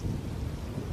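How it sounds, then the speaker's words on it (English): Heavy rain and rolling thunder in Grand Theft Auto V, a deep continuous rumble under a steady hiss of rainfall, loud and unbroken. "As you can see, it is still raining."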